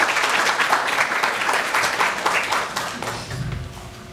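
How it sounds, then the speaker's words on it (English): An audience at a UC Berkeley panel discussion applauds, a dense wash of clapping that stays loud for about three seconds and then thins out with a faint murmur at the end. "a round of applause"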